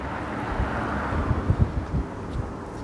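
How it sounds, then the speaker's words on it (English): Gusty wind buffeting the microphone on a Long Island City, Queens street, with low rumbling thumps over a steady breathy rush. "Look at how windy it is."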